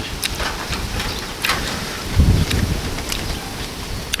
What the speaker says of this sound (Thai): ฝนตกแล้วพี่น้องจ๋า